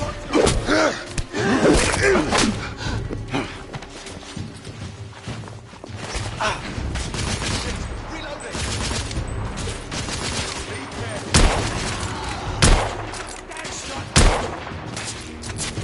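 Gunfire crackles through a video game firefight, with sharp, loud bursts and clustered shots spread across the clip and several heavier blasts near the end, mixed with excited voices.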